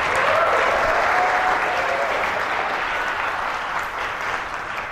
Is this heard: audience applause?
yes